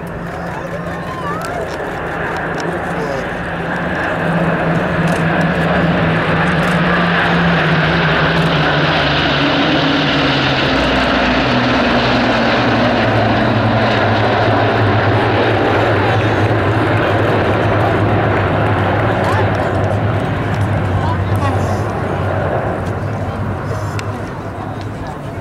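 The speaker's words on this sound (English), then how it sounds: "Now I'm going to be quiet so you can hear the fantastic sound of these engines in formation." A Spitfire and a Hurricane fly in formation with the Red Arrows over an airshow at Cosford, a loud, sustained propeller-engine drone mixed with jet roar that swells, holds and slowly fades as they pass.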